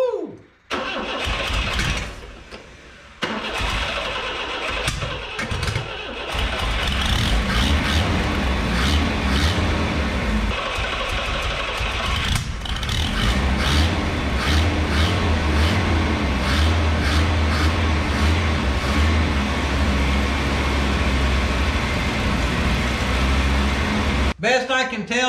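An old U-Haul mini truck box van, abandoned and left sitting for years, cranks with sputters and then catches, settling into a steady, loud, close engine run, with a voice briefly heard near the start.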